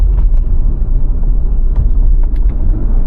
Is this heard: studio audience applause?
no